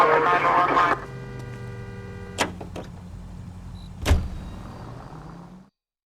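A car in the video game L.A. Noire runs with a steady low engine hum, opening with a louder burst of mixed noise, then two sharp door-like thumps over the idling drone before it cuts off.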